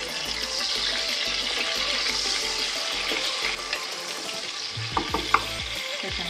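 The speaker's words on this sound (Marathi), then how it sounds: "कांदा फ्राय करून घेतलाय, गुलाबी झाला, आता ह्याच्यामध्ये टोमॅटो घालायचा" Tomato frying in a pan with onion already fried until pink and browned, giving a steady loud sizzle with stirring scrapes and a few sharper clinks toward the end, no voices.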